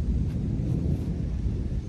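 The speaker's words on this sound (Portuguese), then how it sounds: "já tá armando um temporal lá" Low, rolling thunder rumbles from an approaching rainstorm over a farm field at corn-planting time, a steady deep roar mixed with wind buffeting the microphone and no voices.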